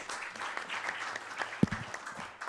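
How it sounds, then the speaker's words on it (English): Audience applause at the close of a youth workshop session at an Internet governance forum, a steady patter of clapping through the clip with a louder clap or thud near the middle. "I think you all deserve a round of applause"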